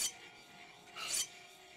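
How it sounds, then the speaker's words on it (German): A blade is ground on a grindstone in the video game Gothic 3. Two short rasping scrapes are heard, one at the very start and a stronger one about a second later, alone and close. "So, Schleifstein."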